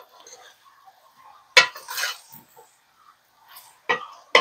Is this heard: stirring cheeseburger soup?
yes